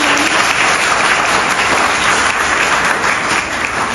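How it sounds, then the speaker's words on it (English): Sustained, loud applause from a lecture audience at an expert technology talk, dense steady clapping filling the whole stretch without a break. "So I can hear a bit loud applause from your side."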